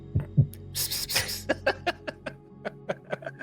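Heartbeat sound effect in a D&D podcast: an irregular series of deep thuds, at first paired and heavy, then lighter and more spaced, under a low hum with a brief breathy swell early on.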